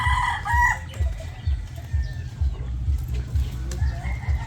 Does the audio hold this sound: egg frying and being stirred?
no